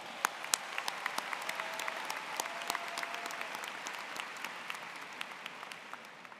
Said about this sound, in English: Let's give another round of applause to our soloist, Caitlin King.